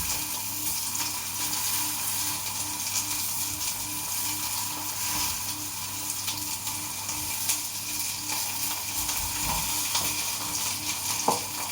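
Chicory cooking in a pan, a steady close sizzle and hiss of moisture frying off, continuous and even with occasional small pops, no voices.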